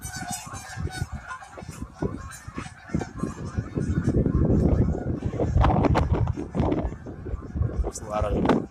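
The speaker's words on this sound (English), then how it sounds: "There's a lot of ducks." A flock of waterbirds gathered outdoors in a Bloomington, Illinois nature area, with dense overlapping honking and quacking calls building in loudness, close and continuous, while a person speaks over them.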